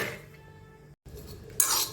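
A metal kadai scrapes and rattles as it is shaken while roasting peanuts, with a short pause, then a brighter burst of clinking and sliding.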